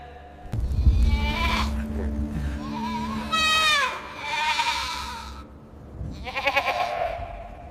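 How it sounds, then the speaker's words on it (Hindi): A goat bleats several times up close, loud wavering cries with short pauses between calls, a few overlapping and trailing off, with no voices over them. "तेरी बकरी सालों से यहाँ रोती है"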